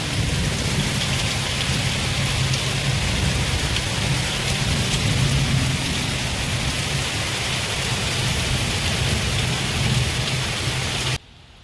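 Heavy rain pours outside as storm clouds gather, a dense, steady roar of drops that stays loud and close without a break, cutting off abruptly at the very end; no voices.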